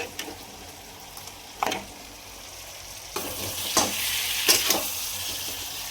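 Potato and cauliflower pieces fry in a pan for khichdi, a soft continuous sizzle broken by several scraping stirs of a spoon, close and moderately quiet, with no talking.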